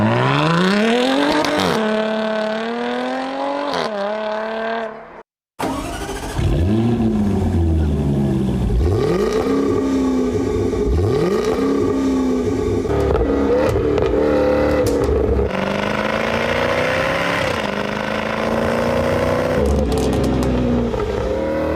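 A Jaguar F-Type engine and exhaust rev hard and loud up and down through the gears, with a brief cut, rising pulls and sharp throttle blips.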